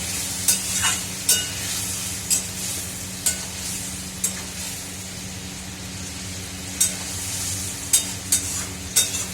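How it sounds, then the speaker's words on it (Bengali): Lentils sauté in a pan with a continuous soft sizzle, punctuated every second or so by sharp scrapes of a spatula stirring against the metal. "ততক্ষণ ডাল সাঁতলে নেব"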